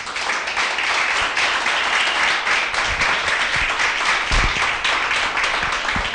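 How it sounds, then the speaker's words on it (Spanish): A church congregation breaks into loud, sustained applause during a Spanish-language sermon, with thick continuous clapping and a few low thumps that hold steady from start to finish. "Den un fuerte aplauso al Señor."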